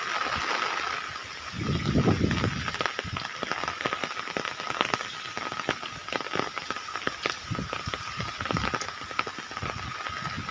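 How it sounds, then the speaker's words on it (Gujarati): Heavy rain hisses steadily across the whole clip, with a rushing wash of water beneath and occasional sharp drips and splashes close by. "પાણી બહુ ખતરનાક જાય છે વરસાદ બી બહુ પડે છે"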